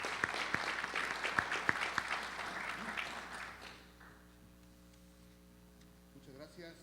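Audience applause welcoming a speaker at a formal panel session, a few seconds of moderate clapping that fades out, leaving low electrical hum and quiet room noise.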